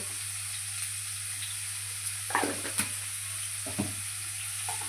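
Onions with curry leaves and turmeric browning in oil for a spicy egg curry give a faint steady sizzle, punctuated by a few soft stirring clicks.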